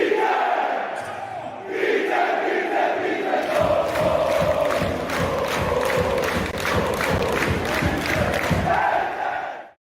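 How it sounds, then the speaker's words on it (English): Widzew Łódź football supporters chant and cheer in a loud, dense stadium crowd, with rhythmic clapping pulsing steadily through most of the stretch before it cuts off. "In the next video you can see how fans of Widzew Łódź cheer the team on"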